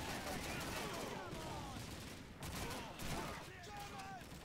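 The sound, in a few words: gunfire in Call of Duty 2 video game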